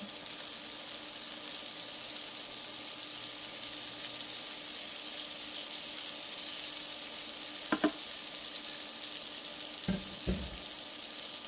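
Salmon fillets sear face down in a hot pan with a steady, moderately loud sizzle, broken by a few brief knocks and clatters from the cooking.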